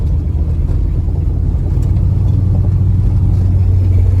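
A 1965 Dodge Coronet with a 360 V8 cruising down the road, heard from inside as a loud, steady, deep engine rumble with constant road drone and no talking.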